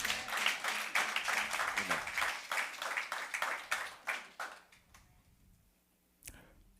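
Church congregation applauding during a bilingual French and English sermon, dense clapping that builds for several seconds and then thins out, followed by a brief late burst.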